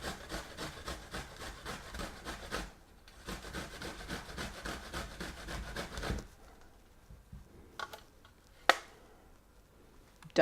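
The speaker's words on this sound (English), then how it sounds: "I discovered that you can just take a grater" Ginger rubbed on a grater in the kitchen, rapid rhythmic rasping strokes close up for several seconds, a short pause, more strokes, then quieter handling clicks and knocks.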